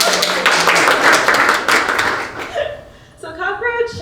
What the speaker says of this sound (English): But we have to clap it.